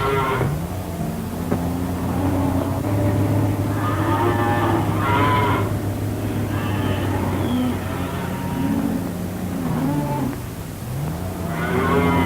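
Cattle moo repeatedly in long, drawn-out calls over a steady rumbling background noise, loud and fairly close, with several overlapping animal voices and no clear speech.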